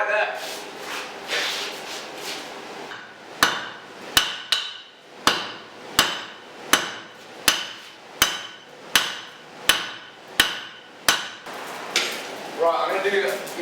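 Sharp hammer blows striking metal while forging, about a dozen evenly spaced ringing strikes in a steady rhythm, close and loud, after a stretch of quieter shuffling and handling noise.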